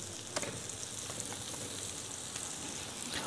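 Brioche French toast fries in a pan with a steady, dense sizzle and a few faint clicks, fairly close and alone with no voices.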